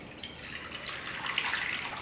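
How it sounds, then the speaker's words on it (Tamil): Water pours steadily into a cooking vessel in a kitchen, making a continuous soft rushing and splashing that swells slightly toward the end, with no talk. "இந்த அளவுக்கு தண்ணி ஊற்றிடுவோம்."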